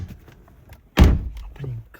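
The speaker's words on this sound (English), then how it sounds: "Open the door." A Ford car door shuts with a single solid thunk, close by, followed by a faint short rattle and quiet handling noises.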